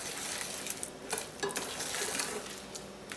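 Almonds being stirred through hot sugar syrup in a pan for Marcona almond brittle, a continuous soft sizzle with occasional light scrapes and taps of the spoon against the pan, heard close up.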